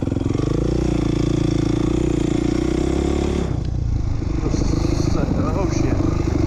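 A motocross dirt bike held in first gear revs hard against its rev limiter, a loud, sustained, buzzing engine drone that breaks off partway through into rougher, choppier running.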